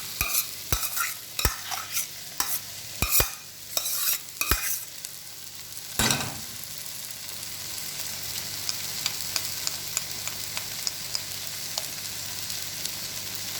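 Mashed potato being stirred into a spiced masala dosa filling in a hot pan, with several sharp scrapes and clatters early on, then a steady soft sizzle that continues alone.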